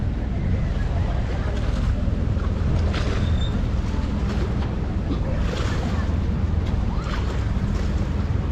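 Waves washing steadily around a boat at a pier, with constant wind rumble on the microphone and faint splashes throughout.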